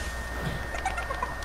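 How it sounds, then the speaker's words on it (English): A chicken in the video game Fortnite gives a few short soft clucks over a steady low game hum, fairly quiet and without any talking. "As you guys see, there is a chicken right here."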